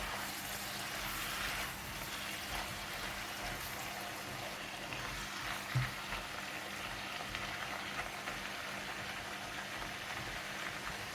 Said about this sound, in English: And half of the garlic in oil.